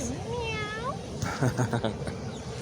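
A cat gives a rising-and-falling meow close by, and a person starts talking right after it. Faint household background noise runs underneath.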